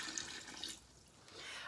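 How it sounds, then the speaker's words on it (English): Water pouring steadily into a bread starter bug for Rewena bread, a soft, close, continuous trickle with no talking. "I'm going to put my water in."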